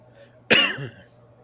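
One sharp, close cough bursts out over a quiet background hum, then fades quickly.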